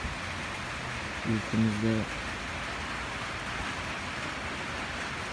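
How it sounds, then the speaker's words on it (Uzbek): Steady rain falls outdoors, giving a broad, even hiss throughout. Someone speaks briefly near the start, partly over the rain. "mana shu yog'dirayotgan yomg'irlarni rahmat yomg'iri qilsin"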